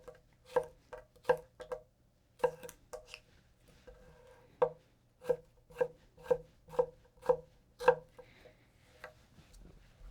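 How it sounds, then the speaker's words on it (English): A Takamura SG2 Migaki gyuto knife small-dicing potato on a cutting board, giving a steady run of crisp, close chopping knocks in an even rhythm with brief pauses and no talking. "in which 20 of it is me small dicing some potato"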